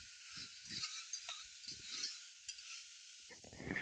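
Mixed vegetables for vegetable biryani soften in a hot pan with a faint, steady high sizzle, broken by a few soft, low bumps of stirring and handling.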